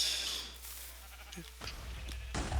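A few short sheep bleats from the game Sheepwar, mixed with electronic effects and a low steady hum, moderately quiet.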